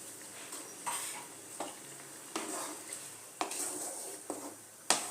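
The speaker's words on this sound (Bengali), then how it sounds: "শিমলা মির্চগুলো আমি এর মধ্যে দিয়ে দিলাম এখনই।" Capsicum fries in a kadai with mushrooms, a quiet continuous sizzle punctuated by half a dozen sharp scrapes and clinks as a spoon stirs the pan at irregular intervals.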